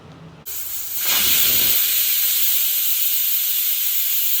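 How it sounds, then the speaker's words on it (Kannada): A pressure cooker steams while cooking chicken, a loud steady hiss bursting on abruptly and holding at full strength without pause. "5 ವಿಷಲನ್ನು ಹಾಕ್ಸಿದ್ದೀನಿ."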